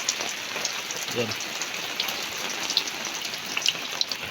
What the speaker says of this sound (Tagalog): Sana huminto na po itong ulan